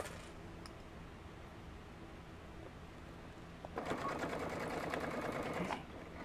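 A sewing machine stitches through thick puff quilt layers in a quiet room, running in a fast, steady burst of rapid needle clatter for about two seconds after a stretch of low background hum.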